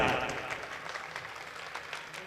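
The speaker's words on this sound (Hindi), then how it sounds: "एक बार तालियों के शोर से बताएं कि आप पूरे तौर पर बेदार हैं।" Audience at a mushaira poetry gathering in Shekhan gaon, Amethi, applauding with brisk, fairly loud clapping that is strongest at the start and tapers slightly over two seconds.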